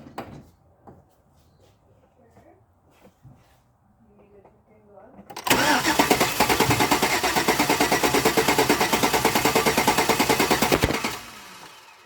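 A car engine cranks over with a compression tester fitted while a misfire is being diagnosed. Faint handling noises come first, then a loud, steady rhythmic starter churn runs for about five seconds and stops.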